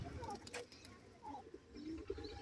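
Pigeons cooing near a feeding spot shared with partridges: soft, low repeated coos, faint beneath people talking and background noise.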